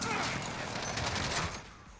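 Light machine gun fire in a video game comes as a dense, continuous rattle of rapid shots that holds steady and then eases off near the end, with a voice talking over it.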